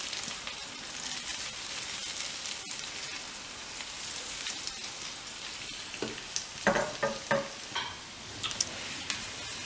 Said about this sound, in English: So on a very low heat, let this kind of simmer for about another 2 minutes.